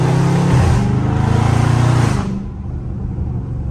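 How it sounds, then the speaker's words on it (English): A Dodge Charger Scat Pack engine growls loudly up close while driving, a deep rumbling drone holding steady for about two seconds before easing off into a quieter, lower idle-like hum. "But y'all can always get this lovely sound of the car, you feel me?"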